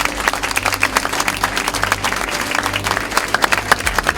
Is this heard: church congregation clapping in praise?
yes